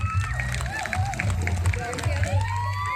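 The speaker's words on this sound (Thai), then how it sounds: "ขอเสียงปรบมือด้วยครับ" Audience at a school performance for a Hmong New Year event clapping and cheering in a lively burst, with voices and chatter mixed in under a speaker on a microphone.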